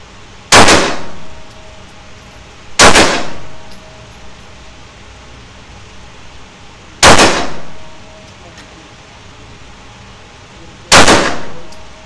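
A Beretta APX A1 Carry pistol fires four loud, sharp single shots, spaced a few seconds apart with brief ringing decay, outdoors and with no talking between them.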